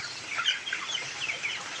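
Twenty-two-day-old farm chickens, wet after rain, give soft scattered clucks and chirps over steady wind noise, moderately close and fairly faint.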